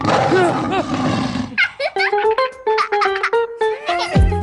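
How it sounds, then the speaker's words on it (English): A lion's deep, rough roar fills the first second and a half, loud and close, then gives way to a run of short, clear musical tones. "Elsa, what sound does a lion make?"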